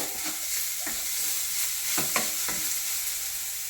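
Mulberry leaves with salt stirred in a frying pan, a steady close sizzle broken by several soft scraping strokes of a spoon, without any talking.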